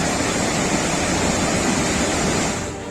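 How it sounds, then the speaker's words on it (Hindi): A fast-flowing river swollen by heavy monsoon rain and eating away its banks gives a loud, steady roar of rushing water, close and unbroken throughout, with no voices. "यहाँ नदी का प्रवाह बहुत तेज है"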